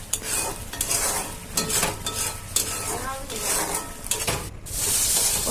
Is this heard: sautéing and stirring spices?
yes